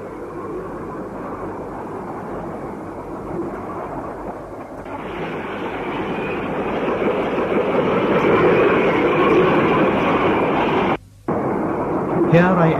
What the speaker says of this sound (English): Here I am on the train